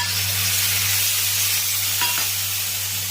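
Mustard paste fries with browned onions in a pan, a continuous loud sizzling hiss over a steady low hum, with a brief stirring scrape partway through.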